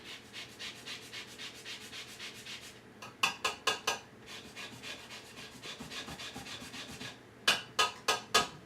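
Orange and lemon rind grated for a sweet pie, a rhythmic series of close scraping rasps, with steady strokes and then short bursts of sharper, louder grating strokes.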